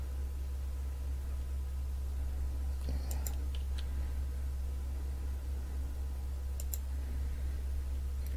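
A computer mouse clicks a few times during modelling work in Blender, two small clusters of faint, close clicks over a steady low hum.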